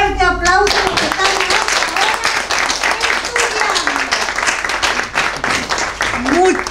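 An audience of seated attendees at a lecture on HIV, human rights and public health breaks into loud, sustained clapping that fills the room, with voices calling out over it.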